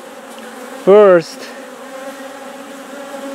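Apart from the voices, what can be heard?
honey bees buzzing around queen cage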